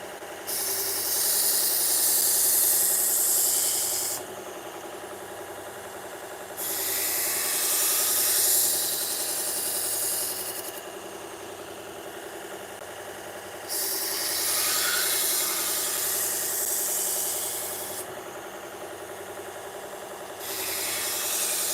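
Silver-plated knives are drawn along a sharpening stone in long, even abrasive strokes, several passes alternating with short pauses, close and steady with no talking.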